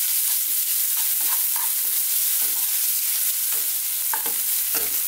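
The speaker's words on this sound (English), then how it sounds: "we're on quite a high heat, as you may hear. We're just going to stir fry this around for 2 minutes." Mushrooms stir frying in a pan on high heat give a constant loud sizzle, with scattered scraping and clacking of a utensil stirring through it.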